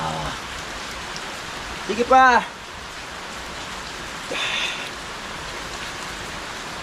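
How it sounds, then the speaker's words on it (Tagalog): Steady rain falls on a roof during a downpour, a continuous broadband hiss throughout, with a voice briefly calling out and a short shout partway through. "Ligo-ligo sa ulan."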